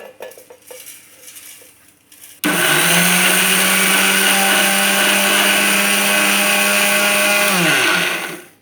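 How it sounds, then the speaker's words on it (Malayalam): A mixer grinder crushing poha (flattened rice) for aval laddu, starting abruptly after a few quiet handling sounds into a loud, steady whirring drone with gritty rattling for about six seconds before cutting off. "നമ്മൾക്ക് ഈ അവിലിനെ ഒന്ന് ചെറുതായിട്ടൊന്ന് ഉടച്ചെടുക്കാം"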